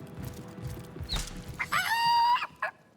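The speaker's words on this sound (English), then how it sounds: "That rooster thinks he's such hot stuff." A rooster in the video game Divinity Original Sin gives a short burst of clucks and a drawn-out crowing call, clear and close, following some quieter game ambience.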